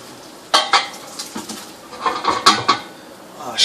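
A metal pot clanks and knocks in a kitchen during pasta straining for baked ziti, several sharp irregular clatters up close with short pauses between them.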